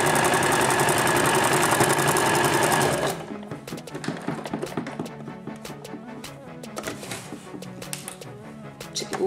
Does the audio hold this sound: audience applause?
no